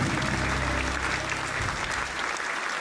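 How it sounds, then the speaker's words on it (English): Audience applause at a live whiskey-tasting show, a dense burst of clapping that fills the whole moment and tapers slightly at the end. "applause. Yeah, there we go."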